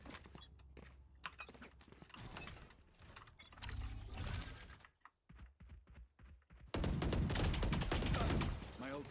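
Valorant gunfire sounds as bursts of rapid shots and mechanical clicks, mixed with game effects and brief players' voices, ending in a louder, denser stretch of action.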